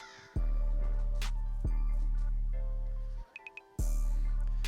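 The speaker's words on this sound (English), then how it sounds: "The crows in the background, by the way." Crows cawing in the background, several distinct harsh calls spaced a second or so apart, with a steady low hum underneath and no talking.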